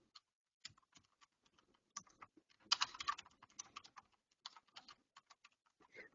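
Quiet typing on a computer keyboard while entering a prompt into Gemini, a close series of irregular light key taps with a brief flurry in the middle, no talk.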